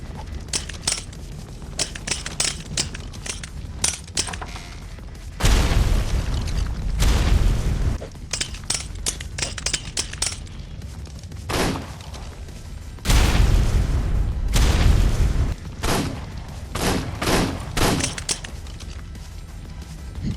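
Repeated heavy grenade blasts in Ark Survival Evolved during a raid, with two long, loud booming detonations and rumbling tails, interspersed with sharp bursts and pops of gunfire.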